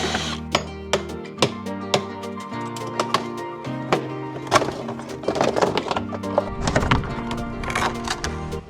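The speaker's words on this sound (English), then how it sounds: "I'm just gonna take a punch and punch out the center and I hope I can reuse them." A punch knocks out the centers of plastic rivets on an Audi RS3 during an under-tray removal, giving a series of sharp, evenly spaced taps and knocks over a low background hum.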